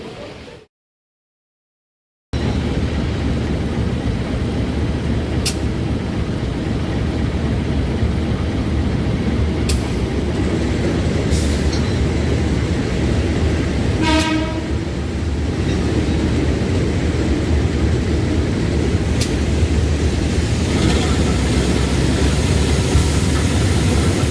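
Parahyangan train standing at platform 1, track 1 of a railway station in Indonesia, under a steady, loud wash of rumbling station and engine noise, with a few short sharp clanks and one brief rapid stuttering pulse partway through.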